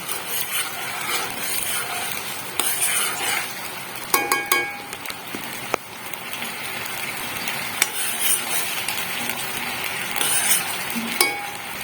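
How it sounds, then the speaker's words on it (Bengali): Jaggery syrup for dhokla at a rolling boil in a pan, a continuous hissing bubble with a few sharp clinks of a utensil against the pan, no voices. "এখানে আমার সিরাটা একদম ফুটে গেছে"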